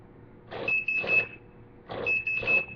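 Two loud electronic alarm beeps from a counterfeit bill detector, each a pair of harsh buzzing pulses with a piercing tone, separated by a brief pause, close and alone.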